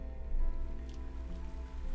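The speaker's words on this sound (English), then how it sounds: "I think it's going to start raining here" Rain falls in the monster-taming, base-building video game Ludoria as a steady, dense patter with a low rumble underneath, holding at an even level with no voices.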